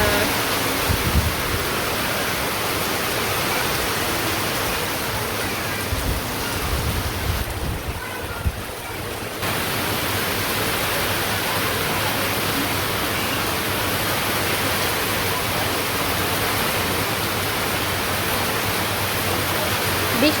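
Distant rain falls as a steady, even hiss that stays unbroken for twenty seconds, thinning only briefly partway through.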